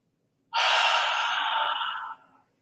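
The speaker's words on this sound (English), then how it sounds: "See, deep breathing." A long, deep out-breath pushed through an open mouth as a whispered ah during a morning stretching and breathing routine, loud and close, lasting over a second and a half and fading at the end.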